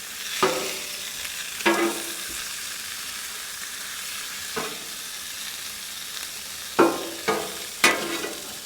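Onions fry on a Blackstone griddle with a low steady sizzle. Sharp scrapes and clacks from a spatula come at intervals, louder near the end, with no talking.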